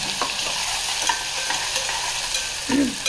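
Ground spice paste with coriander and cumin frying and being stirred in a pan for a Khandeshi brinjal curry, a steady close sizzle with scraping stir strokes and a brief louder clatter near the end.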